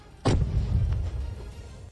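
A tank hit by a bomb explodes with one sudden, sharp blast followed by a deep rumbling decay that fades over about a second and a half, heard from a distance with no other sound.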